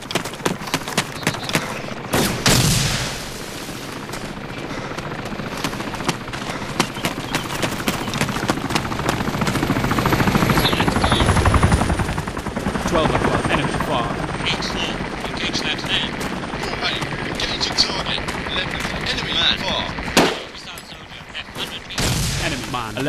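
Helicopter rotor drone and bursts of gunfire from the Arma 2 combat video game, loud and continuous across the scene, with a sharp drop near the end before the noise resumes; in-game radio voices call out targets.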